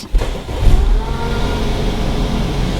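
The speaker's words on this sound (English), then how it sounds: "I'm gonna go ahead and start my car" An Audi Q5 engine starts up close by, a short cranking burst that catches and settles into a steady idle rumble.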